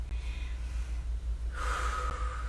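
Breathing during a yoga flow while holding downward facing dog, heard as a close, airy breath followed by a stronger, louder exhale or sniff, over a low background hum.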